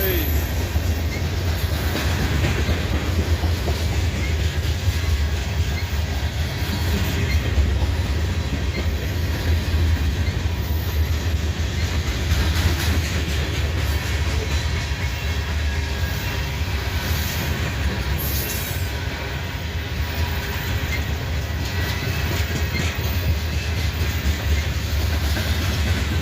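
A freight train of loaded cement covered hoppers rolls past close by, wheels clicking and rumbling steadily with occasional squeals, continuous and loud throughout.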